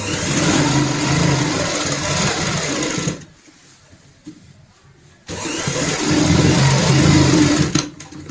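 Sewing machine stitching a fabric hand purse, running in a loud, steady mechanical whir, pausing for about two seconds, then starting up again and running until it stops near the end.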